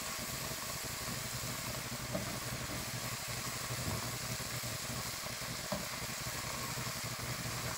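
Food sautéing in a hot pan, a steady, even sizzle and crackle that holds at a constant moderate level throughout, with no talking.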